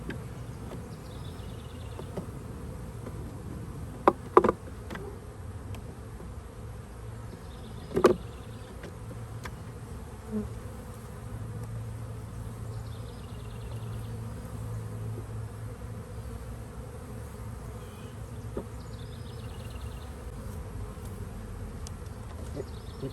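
Bees buzzing in a bee trap box, a steady close hum throughout with a few sharp knocks early on, no talking.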